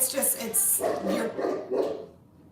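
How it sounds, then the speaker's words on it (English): Dogs bark at a delivery person arriving, several barks heard nearby mixed in with a person talking over them. "my dogs are barking."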